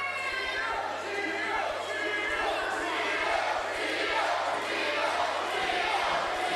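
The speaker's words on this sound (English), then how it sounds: "The crowd getting behind Chio" A crowd at a 2008 independent wrestling match roars and cheers steadily, a broad sustained din with scattered shouts, heard alongside ring noise.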